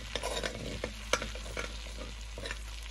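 Seeds warm in country churn butter in a pot for curry lamb, making a soft, low sizzle with scattered stirring scrapes and clicks, one sharper knock near the middle.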